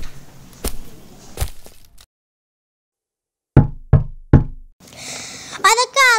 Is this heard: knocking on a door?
yes